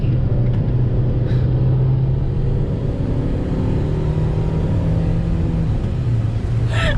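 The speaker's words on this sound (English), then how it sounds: "The car's like a go-kart and it's being driven by a maniac." A small car is pushed hard along a road, its engine holding a steady, droning rumble close up inside the cabin as the pitch shifts slightly while it speeds along, with no one talking.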